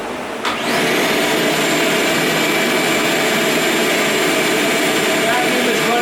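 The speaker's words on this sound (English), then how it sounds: "Let's kick on the vacuum." A vacuum cleaner drawing over 970 watts from a portable solar generator switches on with a brief surge, then runs as a loud, steady whine with broadband roar, continuing without pause.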